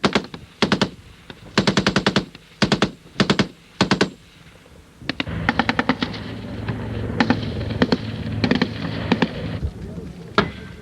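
Infantry weapons firing at targets during a police tiger-unit exercise: loud, close bursts of automatic gunfire in short rhythmic volleys, then denser overlapping shots and rattling fire with a steady background.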